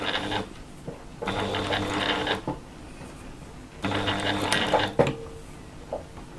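Sewing machine doing free-motion stitching around a fabric purse petal, running in two bursts of rapid whirring needle strokes with short pauses between, close and fairly quiet.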